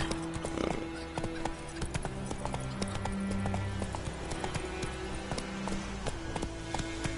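Horse hooves galloping in The Witcher 3 video game, a steady rapid clip-clop rhythm, close and fairly quiet, with a brief whinny early on.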